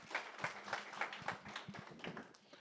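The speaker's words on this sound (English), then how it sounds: "A big round of applause for Enos." Audience applause for a speaker named Enos at a design thinking summit session in East Africa: quiet, sparse clapping from a small crowd with irregular individual claps, fairly distant and soft.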